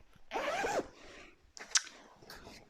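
A dress zipper is drawn open near the microphone to reveal the lined bodice, a close, quick rasping pull followed by a brief pause and a sharp click and second short zip.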